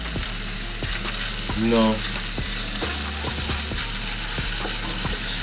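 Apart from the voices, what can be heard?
beef being dry stir-fried in pan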